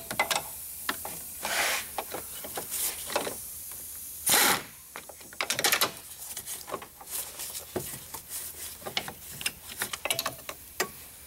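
Ratchet loosening a bolt on the alternator of a 2013 TDI diesel, heard as close, repeated rapid clicking bursts with short pauses between them and no talk.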